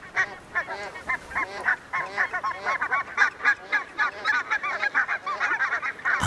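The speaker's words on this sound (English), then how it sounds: "I see hundreds of flocks of barnacle geese," A large flock of barnacle geese on a small delta island honk continuously, many overlapping calls in a dense, busy chorus at moderate distance, with no talking.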